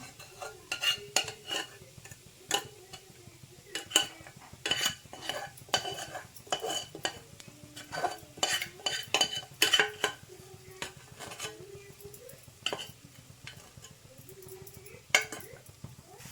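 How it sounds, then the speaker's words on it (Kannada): Spoon scraping and clinking against a pan while stirring a sweet mixture after sugar syrup is added, repeated rhythmic metallic strokes throughout, close and fairly loud with light sizzling underneath. "ಈಗ ನೀಟಾಗಿ ಮಿಕ್ಸ್ ಮಾಡ್ಕೊಳ್ಳೋಣ"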